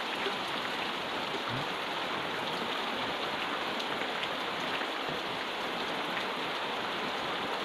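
Heavy rain pours steadily over rice fields, a dense, constant hiss of drops hitting surfaces with no pauses and no voices.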